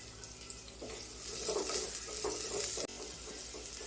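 Okra sautéing in a pan with onion, garlic and tomato, a steady close sizzle broken by bursts of stirring and scraping that build in the middle, with a brief dip near the end and no talk.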